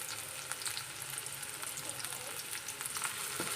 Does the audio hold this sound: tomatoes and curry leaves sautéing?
yes